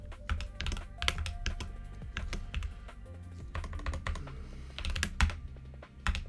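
Fast typing on a computer keyboard during homework, rapid irregular clicks and taps of keys at close range, steady and continuous with occasional louder keystrokes.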